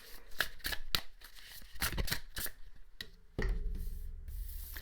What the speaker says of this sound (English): Let's shuffle now for your other card.